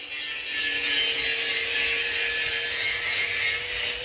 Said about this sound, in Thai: สวานมันไม่ค่อยดี